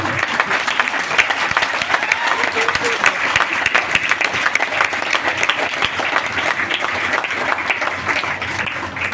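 An audience at a motivational talk on success keeps up sustained applause, a loud, dense crackle of many hands clapping steadily for about nine seconds, with some voices mixed into the crowd noise.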